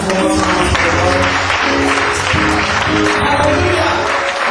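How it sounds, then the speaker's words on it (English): A church congregation claps hands in sustained, dense applause, loud and continuous throughout, with voices mixed faintly into the crowd. "Let's just clap our hands one more time for the Lord."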